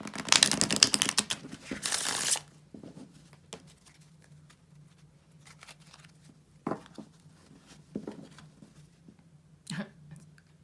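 A brief burst of cards being riffled and shuffled at the start, followed by quieter scattered taps and soft handling noises.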